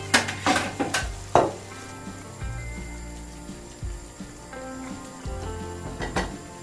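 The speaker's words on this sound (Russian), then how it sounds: "Хорошо все перемешиваю." A spoon scrapes and clatters through bolognese sauce with tomato sauce added in a sizzling frying pan, several sharp stirring knocks at first, then a softer continuous sizzle with occasional taps near the end.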